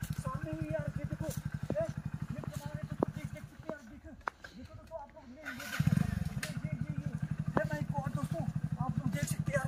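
A motorcycle ridden at night on a road, its engine thumping in a fast steady pulse close by, dipping briefly before revving back up, with people talking over it.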